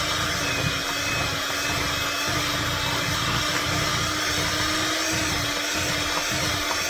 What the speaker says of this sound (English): now I got the real hand mixer